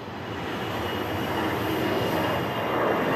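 A low-cost airliner departs on a morning flight, its engines a broad, steady roar that swells slightly over a few seconds, loud and continuous with no voices.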